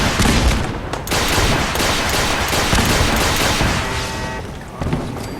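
Dense barrage of gunfire and explosive launches in the video game Fallout 4 from a rapid-firing missile launcher, a loud, continuous roar of booms with no pause.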